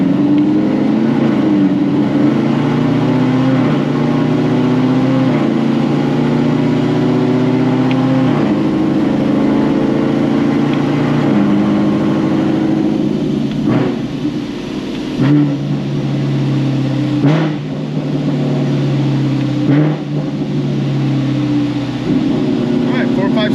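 A Stage 5 ZL1 accelerates through the gears, its engine droning loudly with steady rising pitch broken by several distinct shift breaks, while a voice talks over it.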